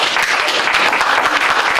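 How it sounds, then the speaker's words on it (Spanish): An audience applauds at a Hispanic church-planting talk, dense steady clapping from many hands filling the room, loud and continuous throughout with no voices over it. "pudiera hacer un aplauso"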